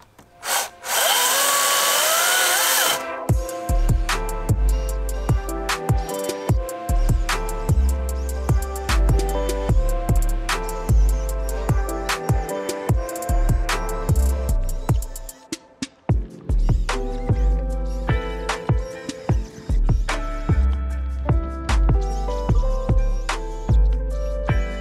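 A gas chainsaw cutting logs into firewood, loud and close, with steady engine whine broken by repeated rev surges and brief dips as the chain bites through the wood, no talking.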